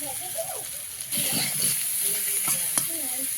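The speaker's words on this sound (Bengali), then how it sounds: "কলাটা একটু সাঁতলে নিয়েছি" Raw banana pieces sauté in a pan with turmeric and salt, giving a steady sizzle with a few stirring clinks. Someone talks over the frying.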